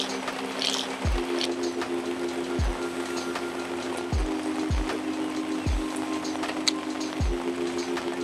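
Steady rain falls outdoors during a pike fishing outing, a continuous broadband patter running evenly throughout, with a few low thumps recurring at intervals beneath it.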